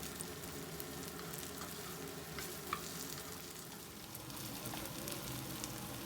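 Cauliflower and potato pieces fry in oil while being stirred: a steady, close sizzle with soft scraping strokes from the stirring and one sharp tap.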